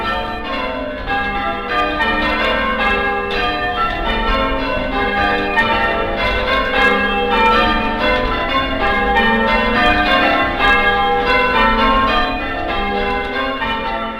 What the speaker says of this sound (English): for all the enjoyment you get out of ringing the bells through the week